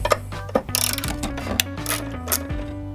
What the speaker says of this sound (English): Starting by taking off these 10mm bolts, or nuts.